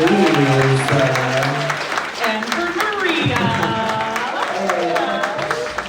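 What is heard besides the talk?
audience applause at a book event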